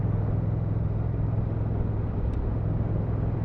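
A Honda CMX1100 Rebel motorcycle engine while riding in third gear at about 30, a steady close low rumble under wind noise with no talking.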